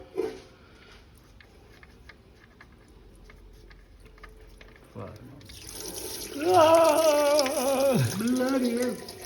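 Water rushing out of a failed Volvo XC90 engine in a garage, starting quiet and then bursting into a loud continuous gush, with excited voices talking over it.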